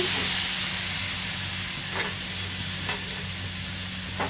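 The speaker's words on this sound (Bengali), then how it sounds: "একটু ভালো করে কষিয়ে তারপর চিকেনটা দেব। মশলাটা আমার তেল ছেড়ে এসছে," Spiced masala with yogurt frying in oil until the oil separates, for a Bengali chicken kosha: a continuous gentle sizzle and hiss with a couple of brief stirring knocks, close by.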